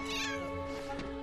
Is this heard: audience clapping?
no